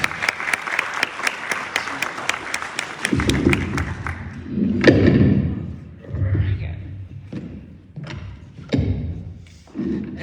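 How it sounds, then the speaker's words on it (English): Audience at a general election candidate forum in Fort Scott, Kansas gives a round of clapping for the candidates, then it fades into thumps, shuffling and murmuring voices in the room. "Let's give them a round of applause."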